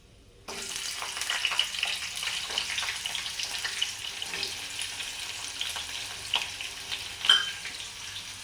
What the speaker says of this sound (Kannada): ಸೊ ಅದಕ್ಕೋಸ್ಕರ ಇದನ್ನೆಲ್ಲ ಆಯಿಲಲ್ಲಿ ಹುರ್ಕೊಳ್ತಾ ಇದ್ದೀನಿ